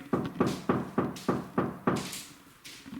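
Knuckles rap on a door inside a private home: seven evenly spaced, fairly loud knocks close by, followed by a quieter stretch with faint room noise.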